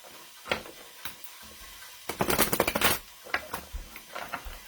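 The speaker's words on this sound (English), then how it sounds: "So I'll just get my tarot cards shuffled here." Tarot cards being shuffled by hand give soft riffling flutters and taps, a few scattered clicks and then a denser burst of rapid card slaps, close and quiet.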